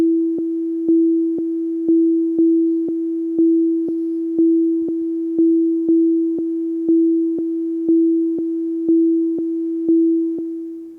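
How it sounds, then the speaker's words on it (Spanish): A programmed live loop repeats a single synthesized sine-like note at a fixed pitch, pulsing about twice a second. Each note starts sharply and decays slightly, and the loop runs continuously and loudly. "Aquí tenemos un live loop, le estamos definiendo una etiqueta de loop y esto va a tocar permanentemente."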